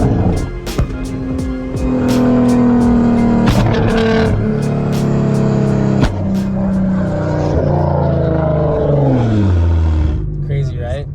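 A supercar roars loudly up close, engine revving and shifting with sharp crackles and pops from the exhaust as it drives, a steady loud engine drone throughout.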